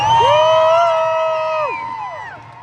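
A monster truck show crowd cheers loudly with rising and falling whoops and shouts. The voices are close and strong at first, then ease off slightly toward the end.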